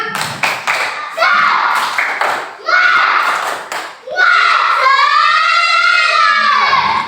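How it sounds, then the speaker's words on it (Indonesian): Third-grade Indonesian schoolchildren in a classroom perform a rhythmic spirit clap: sharp, patterned hand claps at the start give way to loud, sustained group chanting, with claps and voices mixed close by. "Tepuk semangat"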